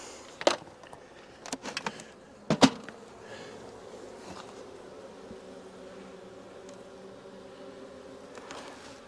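Honey bees buzzing around an open nuc hive outdoors, a soft, steady hum broken by a few loud, brief buzzes as single bees fly close past.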